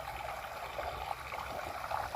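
Irrigation water running steadily through a wheat field, a soft continuous stream-like trickle and gurgle at close range with no voices, holding an even level throughout.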